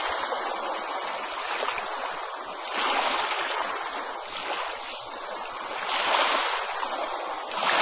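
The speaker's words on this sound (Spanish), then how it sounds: "El sonido de las olas imita el ritmo de la respiración humana, favoreciendo la calma." Ocean waves wash in a steady broad hiss, rising in soft surges a few seconds apart, with no voices.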